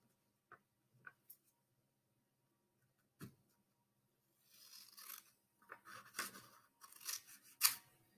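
Scissors cutting paper along a line, a few sparse snips and then a run of quick, faint crisp cuts and rustles up close.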